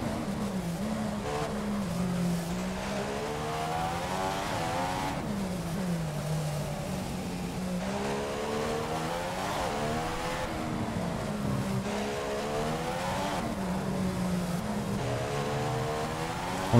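Formula 1 race car engine in F1 2015 at the Monaco street circuit, screaming through repeated rising and falling rev sweeps as it accelerates and shifts, steady and loud over a long stretch with faint tire noise.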